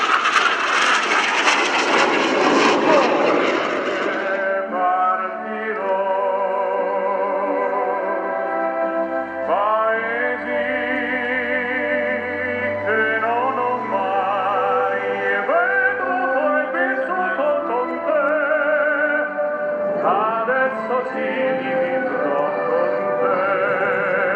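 A solo display jet rolls at the RIAT 2018 airshow at Fairford, its engine a loud, continuous roar that shifts in pitch as it passes, sustained throughout with a rising whine in places.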